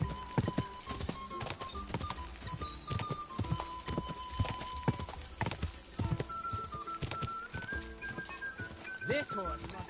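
Rapid hoof clip-clop of a galloping horse in the video game Kingdom Come: Deliverance II, steady and close, mixed with game music and scattered voices talking over it.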